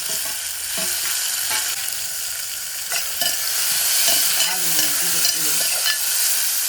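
Onion and tomato frying in a pan for a Malvani-style prawn dish, a steady close sizzle with intermittent stirring clicks and scrapes throughout, no voices.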